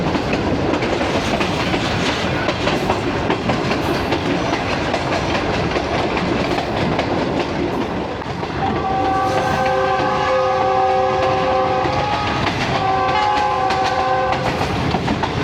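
A Bulleh Shah Passenger train on the Lahore–Kasur line rumbles steadily throughout, its horn sounding two long, loud chord blasts in the second half over the continuous rolling clatter.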